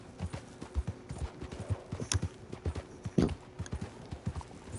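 Horse hooves clip-clop steadily at a walking pace in the open-world western game Red Dead Redemption 2, the footfalls close and rhythmic throughout with a brief whinny-like sound near the middle.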